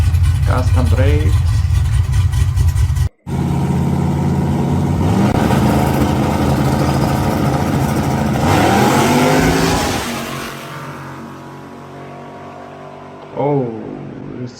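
A muscle car engine roars loudly at a drag racing event, rising in pitch as it accelerates hard, then fading with the crowd's background din and a voice speaking over the noise.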